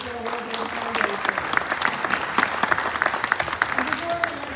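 An audience at a community forum claps for panelists, a lively patter of individual hand claps with murmuring voices underneath, holding steady throughout.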